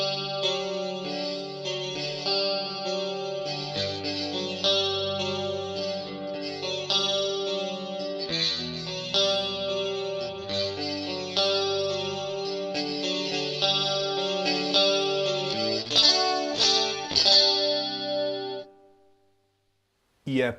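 A Rockman guitar amp simulation with chorus shapes a distorted electric guitar playing sustained chords and melodic lines, loud and close, with a wide shimmering tone that rings out before stopping abruptly.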